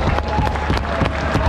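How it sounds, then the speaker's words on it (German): Audience applause at a Giants stage show for the Landwirtschafts-Simulator 22 Platinum Edition, a steady wash of clapping from a crowd that carries on without a break. "auch für die beiden einen großen Applaus"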